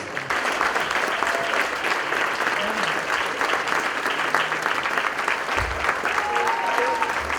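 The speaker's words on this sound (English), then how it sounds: "Let's give them a big round of applause." A park event audience gives a long standing ovation, steady dense clapping that continues at full strength throughout, with some voices mixed in.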